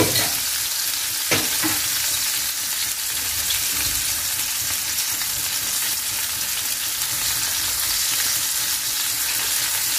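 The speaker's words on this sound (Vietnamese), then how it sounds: "chỉ có áp chảo cho cái mặt ngoài của cá nó săn lại thôi" Fish sears in a hot frying pan, giving a steady, close sizzle and hiss that runs throughout, with a brief clink early on and no talking.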